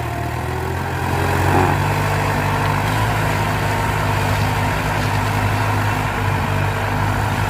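A Ford New Holland 7610 tractor's diesel engine idling close by, a steady low rumble with a constant throb and no voices.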